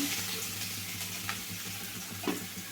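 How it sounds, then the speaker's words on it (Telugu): Chopped garlic sizzles in hot oil for Gobi Manchurian, a steady, dense frying hiss close up with a few faint clinks, no talk. "ఆల్రెడీ ఆయిల్ హీట్ అయి ఉంది కదండి చూడండి దాంట్లోకి ఎల్లిపాయ ముక్కలు అండి చిన్న చిన్న ముక్కలుగా కట్ చేసుకున్న ఎల్లిపాయ ముక్కలు"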